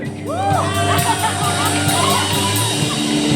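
A group of youth shout and whoop together during a church service, loud overlapping voices ringing in a reverberant hall with a steady hum underneath.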